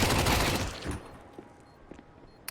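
Counter-Strike match with SMG and rifle fire: a dense burst of rapid gunfire in the opening second, then a few sparse distant shots over quiet game ambience.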